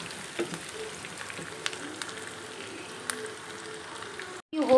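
Soft, steady sizzling of garlic sautéing in a pan for mutton seekh kabab white gravy, with a few light clicks and scrapes, fairly quiet and close.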